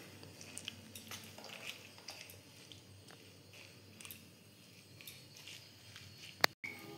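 Chopped tomato and onion stirred together in a bowl for an oats batter flatbread, giving soft, wet, squishy scraping and light utensil clicks, close and fairly quiet, with a sharper clink near the end.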